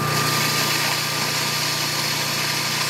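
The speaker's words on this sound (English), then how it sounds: "So I'm just going to run this through here now, and you can see it just everything feeds through there perfect." A Vevor commercial grain mill grinds corn into coarse cornmeal with a loud, steady motor hum and a constant gritty grinding drone, close up and unbroken.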